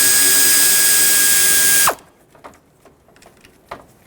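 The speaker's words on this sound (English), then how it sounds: "Now I want to remove the 8mm bolt holding the AC condenser onto the radiator" A ratchet works an 8mm bolt on the AC condenser of a 2013-2020 Nissan Pathfinder, giving a loud, continuous mechanical whir that stops abruptly after about two seconds, followed by faint clicks and rattles.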